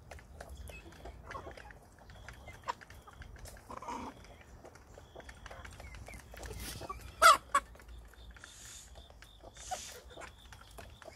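Hens clucking softly in a barn as a mother hen hatches eggs, with scattered bird calls and a brief louder squawk among steady low background noise.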